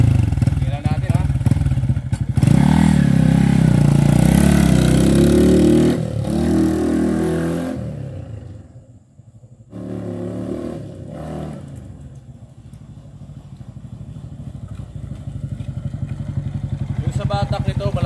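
A 180cc Yamaha Sniper 150 motorcycle engine revs hard and loud at first, then settles to a steady idle after a brief dip.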